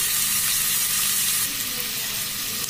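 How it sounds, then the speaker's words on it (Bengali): Onions softening as they fry in a pan, making a continuous close hiss and crackle with light stirring throughout. "পেঁয়াজটা নরম হবে সেই পর্যন্ত এটাকে আমি ফ্রাই করব"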